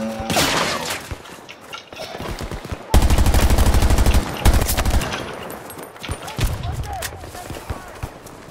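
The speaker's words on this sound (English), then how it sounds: "Who's shooting at me?" Bursts of automatic gunfire in the shooter game Battlefield 2042, loud rapid volleys around the middle separated by shorter shots and game noise, with a player talking at moments between them.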